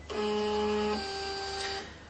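Casio SE-C300 cash register printing a receipt, a steady mechanical whirring with tonal printer whine for about two seconds, close and alone, stepping down in pitch midway before stopping.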